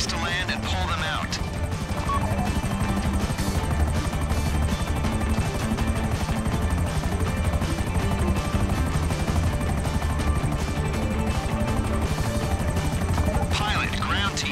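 A helicopter in the GTA 5 video game, during a prison-break mission, gives a constant loud rotor roar for the whole stretch, with game dialogue and some brief crash-like hits mixed in.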